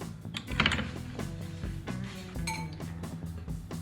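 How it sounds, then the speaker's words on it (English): An egg is cracked into a mixing bowl, with clinks and knocks of shell and bowl ringing out close by and no talking. "crack an egg and put it into this mix"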